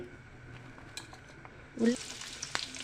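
Onion pieces, green chillies and curry leaves dropped into two tablespoons of hot oil, a low background sizzle that suddenly bursts into loud crackling spitting near the end.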